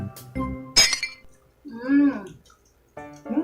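Glasses clink together in a toast among friends tasting Australian snacks. Several sharp chimes ring out near and clear, and voices call out between the clinks.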